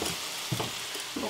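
A pot of tomato-based beef barley soup heats toward a boil, giving a soft, continuous bubbling and sizzling hiss with a few slightly louder pops.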